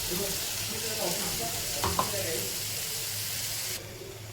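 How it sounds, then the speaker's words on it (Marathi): Tomato paste frying in a pan with turmeric and chilli powder for a Maharashtrian dry chicken dish, a steady sizzle with a few stirring scrapes midway, close and moderately loud, dropping slightly in level near the end. "पेस्ट पण आपण टाकून घ्यायची आहे आणि पेस्ट शिजवून घ्यायची आहे छान"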